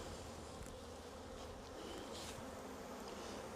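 Honey bees swarm around an open hive during a hive merge, their dense, steady buzzing close and loud throughout with no talking.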